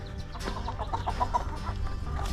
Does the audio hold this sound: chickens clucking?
yes